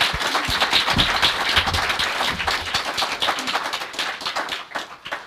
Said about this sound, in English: Let's offer Marcel a round of applause.